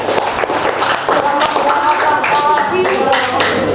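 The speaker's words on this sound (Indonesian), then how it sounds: "beri tepuk tangan untuk mereka" Students in an Indonesian classroom clap for classmates during a lesson, a short burst of dense, fairly close clapping mixed with voices and chatter.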